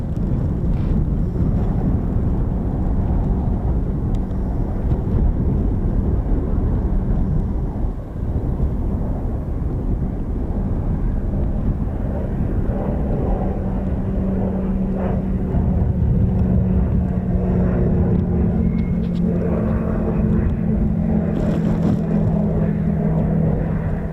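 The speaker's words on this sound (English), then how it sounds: "Sweet looking aircraft, isn't it? Nippy." A small military training aircraft, the replacement for the Grob Tutor, flying past at an air show at RAF Coningsby, a steady loud engine drone rising and falling under heavy wind noise on the microphone.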